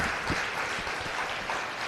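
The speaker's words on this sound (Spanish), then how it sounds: "Brinde el mejor de sus aplausos, por favor." Audience applause at a church gathering after a pastor's prayer and reflection, a steady wash of clapping from a crowd that fills the short moment evenly, with no voices over it.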